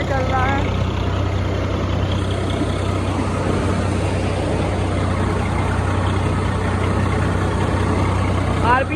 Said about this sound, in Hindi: ट्रैक्टर दबाव नहीं रहा है, बढ़िया चल रहा है